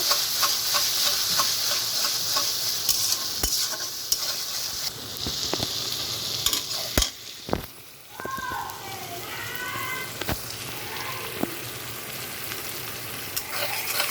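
Spices with turmeric and coriander powder sizzle and fry in a pan while being stirred, a continuous crackling hiss broken by sharp scraping knocks of the spatula, with a brief quieter dip midway.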